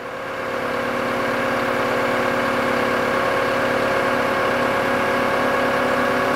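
A sanitation truck engine, a Stellar 108-12 equipment system, idles loudly and steadily nearby with a constant low throbbing rumble and tonal hum, running alone without talk.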